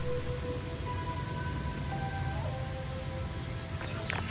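Steady rainfall patters over the ground in the toxic rain of the space exploration game No Man's Sky, with a constant broadband hiss throughout, faint electronic tones and a brief game sound near the end.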